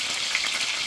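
Beef roast sizzling and frying in a hot pan just after being flipped, a steady bright crackling hiss that fills the short moment without talk.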